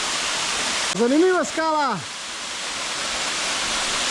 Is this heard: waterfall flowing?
yes